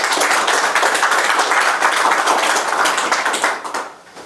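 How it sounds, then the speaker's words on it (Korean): A hall full of guests at a research grant award ceremony claps vigorously in congratulation, with a thick, sustained burst that stays strong for most of its length and then fades away in the final half second. "축하의 뜻을 담아서 힘찬 박수 부탁드립니다"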